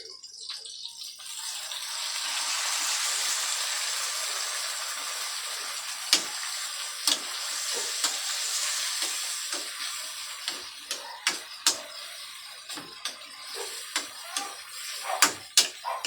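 Meat frying in a pan gives a steady broad sizzle and hiss, with scattered sharp clicks and scrapes from stirring that grow more frequent later on, close and moderately quiet, with no voices.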